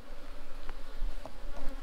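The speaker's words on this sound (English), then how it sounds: "So as you can see, lots of bees on this one" Honey bees buzz steadily over a brood frame in a thriving colony, a close, continuous hum with no talk.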